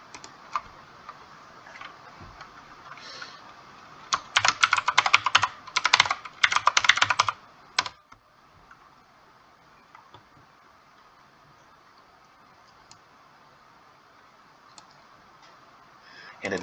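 Brisk bursts of typing on a computer keyboard come through close and clear, with dense clacking clustered in the middle and sparse single key taps before and after.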